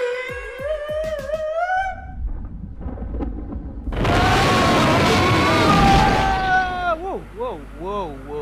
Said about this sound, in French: Sacrée explosion, hein.